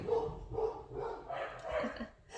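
Dogs barking in short repeated bursts, fairly close and moderately loud, several barks in quick succession with some yipping, no talk over them.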